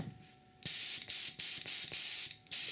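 An airbrush driven by a super-quiet 20A compressor releases a series of sharp hissing bursts of air, close and loud, in short on-off pulses with brief clicks between them.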